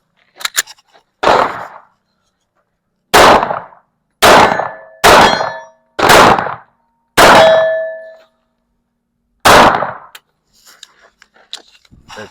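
Pistol shots ring out at a shooting range, each striking a steel target with a loud, close metallic clang. Seven or eight separate shots come at irregular intervals, and each ring decays over about half a second, with faint clatter at the end.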